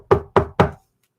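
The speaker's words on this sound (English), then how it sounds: "I will go up to the knocker because every adventure begins with a knock." Three heavy knocks from a door knocker on an old, long-unused door, loud and close, evenly spaced and then followed by silence.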